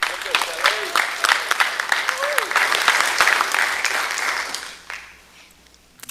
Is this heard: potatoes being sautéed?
no